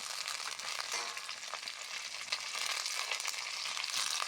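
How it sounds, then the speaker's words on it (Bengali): Cauliflower pieces frying in a spiced masala of tomato, ginger, garlic and onion, giving a continuous, close, bright sizzle and crackle with no talking. "তো ফুলকপিগুলো আমি ওর মধ্যে দিয়ে দিলাম"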